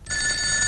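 A telephone rings with a steady, shrill electronic tone that starts abruptly and holds loud and close for the whole moment.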